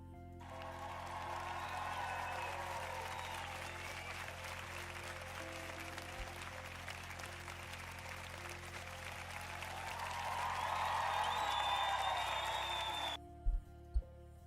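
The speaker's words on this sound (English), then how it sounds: "Let's give them a round of applause." Audience applause during a homebrew game show segment, sustained, even clapping that swells slightly toward the end before cutting off, followed by a couple of sharp knocks.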